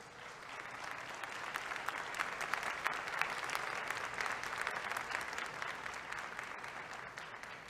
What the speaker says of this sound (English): go ahead and applaud yourself right now